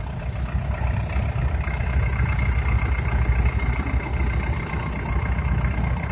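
Tractor engine idling at the Sheffield steam rally tractor parade, a loud, steady low rumble chugging evenly close by, with no talk.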